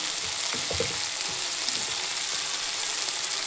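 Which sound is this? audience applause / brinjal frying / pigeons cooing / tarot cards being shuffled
brinjal frying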